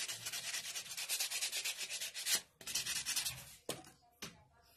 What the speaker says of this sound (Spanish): Le voy a pasar poquito la lija, chicas, para que quede lícito.